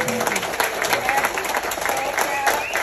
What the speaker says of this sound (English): Can I please get a big round of applause?